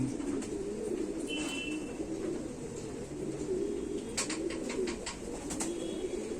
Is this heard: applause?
no